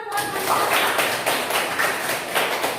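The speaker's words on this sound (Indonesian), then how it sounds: "Nah itu, tepuk tangan dong." A classroom of students claps together in sustained, dense applause with an uneven rhythm that holds steady throughout.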